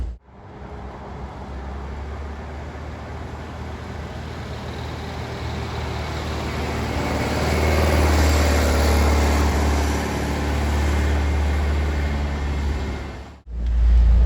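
A Gurgel Ipanema convertible drives steadily on a road, with a loud low engine rumble and broadband wind and road noise that swell slightly midway and cut off abruptly near the end.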